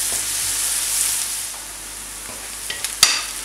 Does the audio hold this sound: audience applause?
no